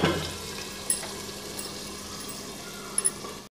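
Finely chopped ginger sizzles in a pan over a low flame while fried rice is being cooked: a steady, fairly quiet frying hiss with a few small pops and clicks, no voices.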